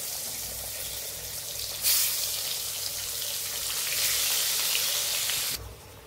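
Brinjal fries in hot oil, sizzling steadily and swelling louder for a few seconds before cutting off abruptly.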